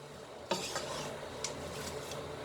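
Onions cooking in a pot for French onion soup are stirred with soft scraping and rustling over a faint steady sizzle, with a few light knocks against the pot, close and quiet.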